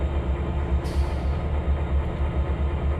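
A train rumbles along steadily in the railway simulator Trainz 2022, with a low continuous rolling drone and a brief hiss partway through, probably from the air brake being released.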